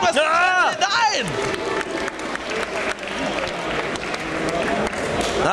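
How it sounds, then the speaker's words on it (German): Wrestling crowd at a wXw 16 Carat Gold 2016 four-way match applauding and cheering loudly and continuously, with a commentator speaking over the noise at the start. "Applaus von den Fans für diese actionreiche."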